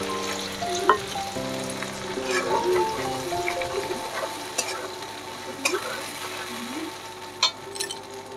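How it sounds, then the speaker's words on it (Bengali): Poppy seed and tomato paste frying with a little water in a pan, a soft bubbling sizzle with occasional clicks and scrapes of stirring, fairly quiet and close. "পোস্ত আর টমেটোমের যে পেস্টটা, সেটা এবার দিয়ে দেবো। সামান্য পরিমাণ একটু জল দিয়ে এটা কষবো।"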